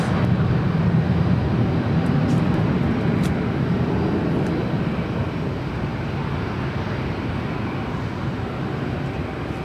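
A Delta Boeing 737 taking off from LAX runway 24 left produces a steady, moderately distant broadband engine roar that slowly fades, with a few faint clicks and no talking.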